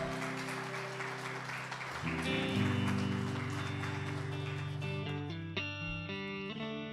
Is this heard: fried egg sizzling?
no